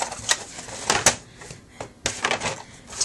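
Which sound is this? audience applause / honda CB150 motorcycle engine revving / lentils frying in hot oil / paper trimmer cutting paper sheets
paper trimmer cutting paper sheets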